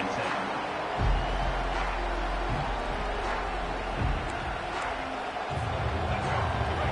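Crowd noise at a football stadium, a broad, distant roar swelling and ebbing beneath a commentator's voice during play.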